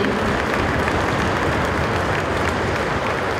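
A concert audience gives sustained, dense applause for a double bass player at a Christmas carol concert in Stara Kopalnia, steady and broad throughout with no voices over it.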